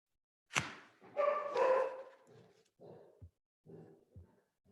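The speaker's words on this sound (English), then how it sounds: "Is that Dave's dog" Dog barking during an online school board meeting, one sharp bark followed by a drawn-out whining yelp and several shorter, softer barks and grunts, near and clear against silence.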